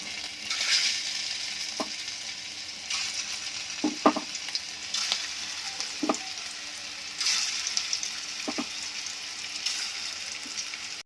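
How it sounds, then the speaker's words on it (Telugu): Chicken keema balls frying in oil in a kadai give off a steady, close, crackling sizzle, with a few soft knocks and clinks from stirring. "మనం చేసి పెట్టుకున్న కీమా బాల్స్ని ఆయిల్లో వేసి వేయించుకోవాలి."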